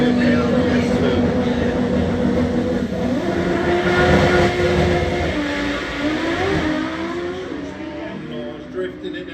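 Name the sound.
race car drifting down the track at a raceway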